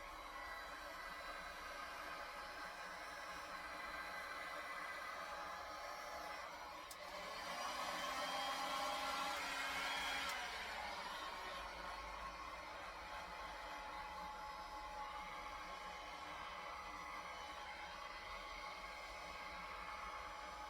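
A heat tool blows hot air over resin, giving a soft steady airy hiss that swells louder for a few seconds midway, then falls back to a faint constant background.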